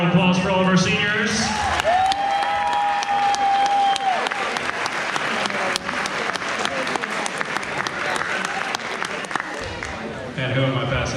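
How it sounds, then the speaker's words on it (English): Audience applause for the seniors at a high school band banquet, a long, loud, steady round of clapping with some cheering, plus voices and a brief whistle-like tone riding over it. "How about one more round of applause for all of our seniors?"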